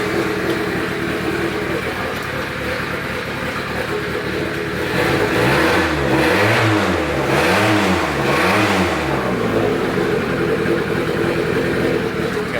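A cheap used Honda Civic engine runs close by, idling roughly before revving up in several rising and falling surges midway, then settling back to a steady idle.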